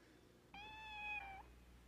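A kitten gives a single clear, drawn-out high meow of about a second, close and distinct over a quiet background hum, with no talking.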